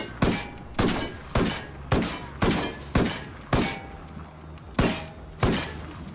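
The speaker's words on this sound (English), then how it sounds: "Let's just see how many shots it takes with the Dragunov to take down the same exact vehicle" Dragunov sniper rifle firing repeatedly at a test vehicle in Ghost Recon Wildlands: about nine sharp, loud shots spaced roughly half a second apart, each with a quick decaying tail, with a short pause before the last two.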